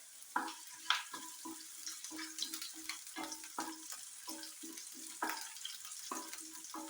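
Garlic and green chili frying in a pan for beef cutlets, a soft steady sizzle with intermittent stirring taps and scrapes, quiet and close, with no talking.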